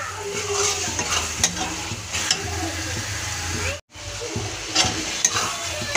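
Spice masala for a spicy chicken kosa curry sizzles and fries in a pan while a spoon stirs and scrapes it, a steady close hiss with repeated clinks and one brief gap of silence.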